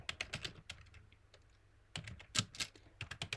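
Typing on a computer keyboard while entering a Linux terminal command on a Raspberry Pi 4: quick clusters of close, crisp key clicks, a brief pause, then another rapid burst of keystrokes.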